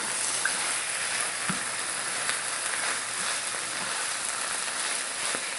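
Vegetables and Italian sausage sizzle steadily in a hot pan as they are stirred, a dense, even crackle with small scraping clicks here and there.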